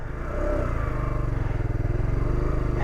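Motorcycle pulling away uphill on a dirt track under light throttle around 3,000 RPM, a steady close engine drone with a pulsing rhythm and some clatter, running continuously without talk.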